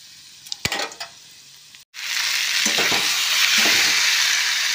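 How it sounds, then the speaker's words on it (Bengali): Oil bursts into a loud, steady sizzle as panch phoron and dried red chilies hit the hot pan for amla pickle, after a brief clatter of stirring and a moment of quiet. "তেলটা গরম হয়ে গেছে। এবারে 5 ফোড়ন আর শুকনো লঙ্কা এতে দিলাম।"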